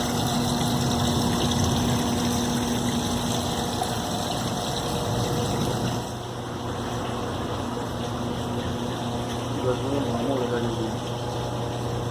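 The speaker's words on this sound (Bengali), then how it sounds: "ওখান থেকে জল আসছে।" Water flows steadily into a fish pond with orange fish at a botanical garden conservation park, a constant rushing wash that drops slightly in level partway through, with a faint voice briefly audible.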